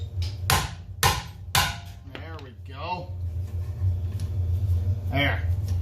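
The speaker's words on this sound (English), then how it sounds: "Can't swing a hammer to save my life on the lefty side." Hammer blows during repair work on an old vehicle being made road worthy, three loud, sharp strikes in a quick row followed by someone talking over a low steady rumble, with another knock near the end.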